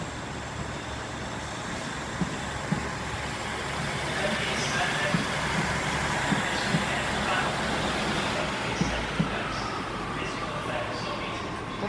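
An East Midlands class 156 diesel unit, 156408, pulls out of Nottingham station with a steady low engine rumble and hum, a few faint clanks over it, while a person talks nearby.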